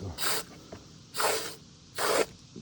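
Concrete lifting foam sprays from a two-tank rig into a box in three short hissing bursts, each about half a second, separated by quiet pauses, close and fairly soft.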